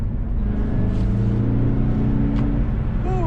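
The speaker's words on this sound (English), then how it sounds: "it just keeps the revs higher in the rev range, which gives you turbo faster" A 2021 Mazda CX-30 engine held at higher revs in sport mode, a steady close droning hum with a rising tonal whine near the end, continuous and fairly loud inside the cabin.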